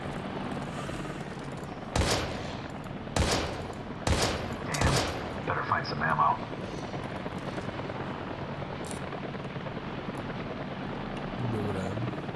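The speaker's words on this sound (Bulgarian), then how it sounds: "Той хеликоптер." Gunfire and a helicopter in the survival-horror video game Daymare 1998: four sharp, loud bursts of shots in quick succession, then a low rotor drone carrying on faintly under the quieter remainder.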